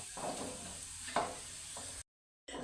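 Hot oil being poured or scraped out of a pan of fried, golden garlic, with bursts of sizzling and metallic scraping, a brief sharp clink, then a short silence before sizzling resumes.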